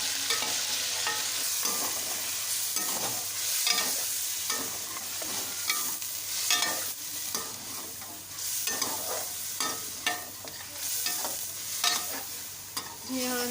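Chicken White Karahi cooking: chicken pieces sizzling in a hot karahi with yogurt just added, stirred steadily with a spoon scraping the pan, giving close, continuous frying crackle and repeated stirring scrapes, with no voices.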